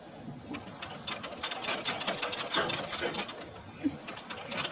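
A sewing machine stitches lines on practice paper with a fast, rattling, uneven whir close by, starting and pausing, while faint bird cooing is heard in the background.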